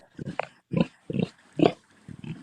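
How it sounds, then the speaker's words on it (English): A large rescued pig at a farm animal sanctuary grunts close by, five short, rough, low grunts in an uneven rhythm with brief pauses between them. "So he's another one of our large pigs."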